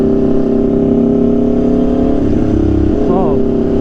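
An Aprilia RSV4 motorcycle with an SC-Project CRT exhaust rumbles loudly and close at idle, then gives a short, sharp rev near the end.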